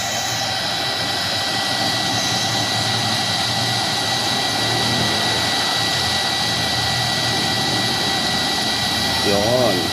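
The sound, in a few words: Yamaha Sniper 150 motorcycle radiator cooling fan running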